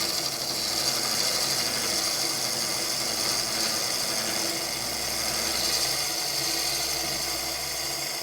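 A gouge making a light push cut on a spinning wood lathe, a steady broadband hiss of shavings peeling off over the low continuous hum of the machine, close and even throughout with no talking.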